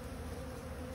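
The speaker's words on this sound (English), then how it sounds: "It's a lot of bees." Honey bees buzz densely at an open hive, a continuous close swarm hum with no breaks and no voices.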